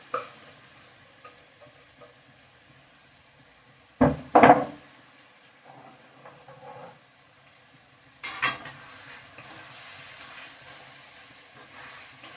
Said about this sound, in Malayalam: ഇനി നമുക്ക് ഇതിലേക്ക് ഈ ബീഫ് അങ്ങനെ ഇട്ട് കൊടുക്കാം.